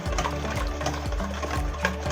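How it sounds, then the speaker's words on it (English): Egg mixture for cinnamon French toast being whisked, probably by electric beater: a steady mechanical whir with repeated rhythmic pulses, close and fairly loud, no speech. "Now we're going to whisk this until"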